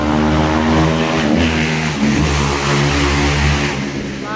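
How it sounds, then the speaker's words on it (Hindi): A motorcycle ridden fast and noisily past a residential building with a garden, giving a loud, continuous engine roar that surges and revs close by, with no talking. "बाइक वाला तो ऐसे चला रहा है बाइक को जैसे कि ये किसी का सिर फोड़ देगा"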